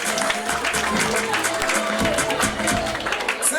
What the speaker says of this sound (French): Et ses élèves sous vos applaudissements.